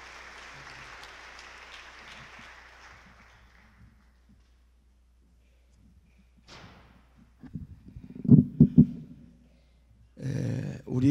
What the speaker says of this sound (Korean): 다시 한 번 더 박수해 주시기 바랍니다.